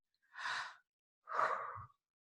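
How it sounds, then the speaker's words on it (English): Two deep breaths, each a slow, airy inhale or exhale lasting about half a second, separated by a short pause, close and fairly quiet with no talking. "Take a deep breath."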